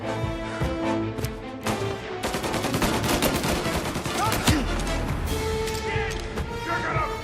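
Tommy gun fire in the video game Mafia Definitive Edition, with rapid bursts of automatic shots, crashes and impacts that run nearly continuously at close range over a dramatic music score.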